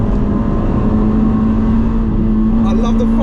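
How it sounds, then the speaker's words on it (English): Engine of a 2004 Toyota Celica VVTL-i 190 T-Sport droning steadily and loudly inside a tunnel as the driver shifts down into third gear, a constant hum with road roar throughout. "I think I'm gonna downshift into 3rd."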